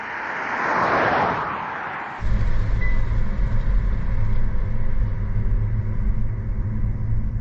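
Kia Niro EV electric car cruising at about 80 km/h on cruise control, heard from inside as a steady low road and tyre rumble that starts abruptly after a brief softer hiss, continuous and fairly loud with no talk.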